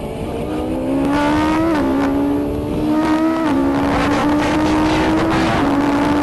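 A Noble M600 or Atom V8 lapping the Nurburgring, its engine note rising and dipping through gear changes and corners, loud and continuous from close by with no talking.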